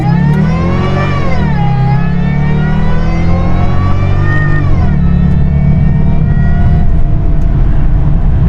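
A Jaguar S-Type R engine revs hard and climbs in pitch, drops sharply at an early gear change around 5,400 RPM, short of its 6,200 RPM redline, then climbs again, loud and close throughout.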